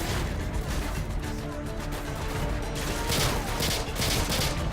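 Dense gunfire and explosive crashes in a Call of Duty Modern Warfare 2 match, a loud continuous barrage with sharp bursts layered throughout, no pauses.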